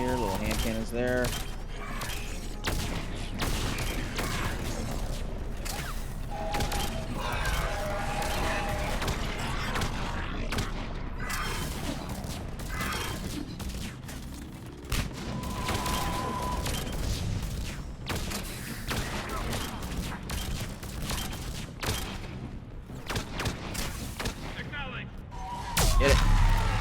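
Dense, continuous gunfire and explosions in Mass Effect 3 Legendary Edition fill the scene, with bursts of shooting and booms layered under someone talking throughout.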